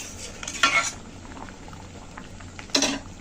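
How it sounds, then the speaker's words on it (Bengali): Prawn malai curry simmering in a pan bubbles steadily while a spoon stirs it, giving two short scraping clinks against the metal a couple of seconds apart, close by. "তরকারিতে খুব সুন্দর জাল এসে গেছে, একটু নেড়ে ছেড়ে নিলাম।"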